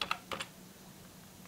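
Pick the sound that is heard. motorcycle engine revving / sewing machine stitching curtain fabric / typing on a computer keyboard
typing on a computer keyboard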